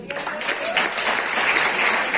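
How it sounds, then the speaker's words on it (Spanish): Applause from a church congregation during a Bible study, a steady wash of many hands clapping together, loud and continuous throughout. "Denle un aplauso a Jesús."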